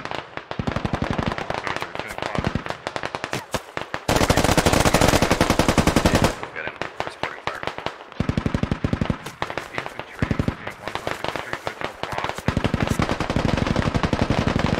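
Sustained automatic gunfire from the military shooter game Squad, dense rapid bursts stacked almost continuously with a few short pauses, loud and close, with faint voices underneath.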